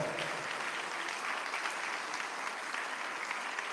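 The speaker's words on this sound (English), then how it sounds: "Let's give the athletic trainers a well-deserved round of applause." An audience at the South Florida Athletic Awards ceremony claps in a steady, even wash of applause that stays consistent throughout, with no cheering standing out.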